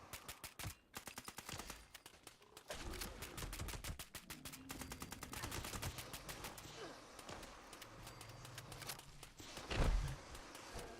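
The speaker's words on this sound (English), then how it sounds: "Oh, I love this gun." Rapid automatic gunfire from a weapon in the video game Fallout 76, long strings of sharp shots with brief pauses, loud and dense, with no talk over it.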